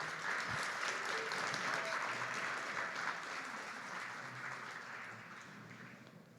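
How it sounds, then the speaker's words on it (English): A room of attendees at a democracy summit gives a sustained round of applause, an even wash of many hands clapping that gradually softens toward the end, with no one speaking over it. "Clap it up for Julio."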